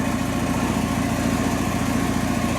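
The engine of a 1990 Jeep Cherokee idles nearby after head gasket work, a steady, loud mechanical drone with an even rhythmic pulse and no talking.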